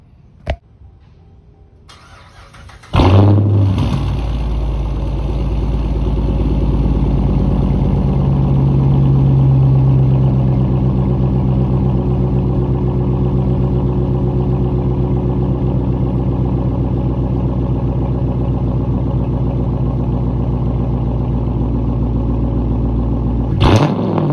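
A Dodge Challenger engine cranks and fires after a couple of clicks, then idles loud and close with a brief rise in revs before settling and cutting off near the end.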